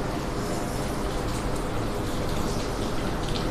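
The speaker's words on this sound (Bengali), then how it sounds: "বৃষ্টির জল পড়ছে" Steady rain falls outside a home during a wet morning, a dense continuous patter of drops hitting surfaces, close and fairly loud, with no voices.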